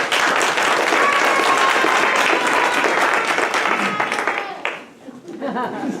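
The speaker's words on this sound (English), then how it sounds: "Can we have a round of applause for all of the kids?" An audience at a school board election forum gives a round of applause for the kids, a dense, loud, sustained wash of clapping that dips near the end as a few voices and chuckles come through.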